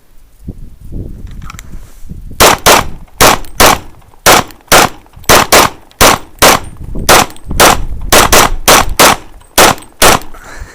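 Pistol shots fired in quick pairs and strings during a target-focus shooting drill with no sights, sharp loud cracks in an uneven rhythm over roughly eight seconds, preceded by faint rustling and movement.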